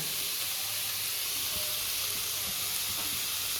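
White sesame seeds landing in a hot pan of mustard greens cooking with potato and eggplant, giving a steady, close frying sizzle and hiss that holds evenly throughout without any voices.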